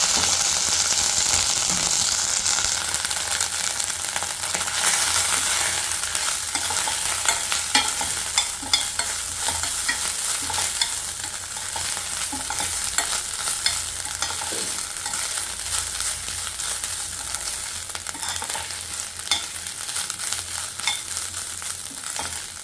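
Continuous sizzle of coconut frying in ghee with steady scraping and stirring of a spatula in a pan, close and fairly loud, no voices.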